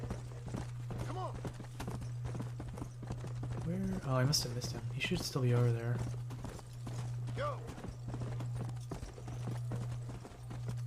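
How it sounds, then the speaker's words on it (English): Horse hooves clip-clopping at a steady pace in the Red Dead Redemption video game, a rhythmic patter running under a man's speech with a steady low hum behind. "Didn't realize I was riding the horse that hard."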